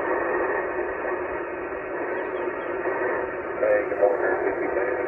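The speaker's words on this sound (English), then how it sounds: "Bunch of FT8 here." FT8 digital mode signals come through an amateur radio receiver as a steady band of overlapping tones and hiss, continuous and fairly loud, with faint voice-like traces mixed in.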